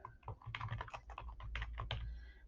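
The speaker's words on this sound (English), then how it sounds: "So I'm going to simply type in my name here." Quick, light clicking of keys being typed on a computer keyboard, a brief close burst of keystrokes in a quiet room.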